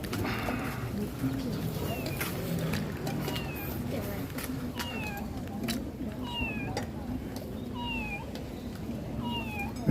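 Several short rising cat meows repeat at intervals over a steady low background hum at a Buddhist merit-making and alms-giving event in Bangkok Noi, Bangkok, with a voice murmuring faintly underneath.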